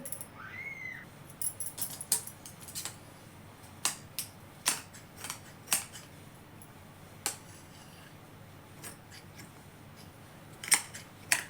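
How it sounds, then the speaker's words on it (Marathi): Scissors cut a circle out of cloth with a series of quiet, crisp snips, irregularly spaced, some in quick pairs, over a soft room background. "असा गोलाकार कापून घेते मी"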